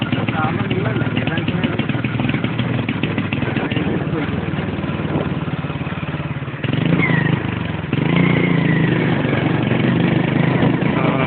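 A motorcycle running with a fault while riding on a road, its engine a steady droning rumble throughout, with uneven surges in level, and voices talking over it.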